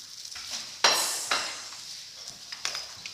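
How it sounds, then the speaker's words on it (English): Chicken schnitzel hits a hot frying pan presentation side first with two sharp sizzling bursts that fade into a steady crackle, with light utensil scrapes nearby. "A little bit of sizzle."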